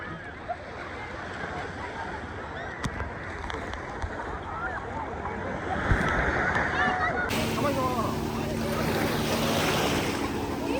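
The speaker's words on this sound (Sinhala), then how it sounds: "ඔය යන්නේ මේ බෝට්ටු" Boats passing on the sea at Songdo beach, heard among continuous surf and wind noise, with a motor-like hum joining in the second half and voices nearby.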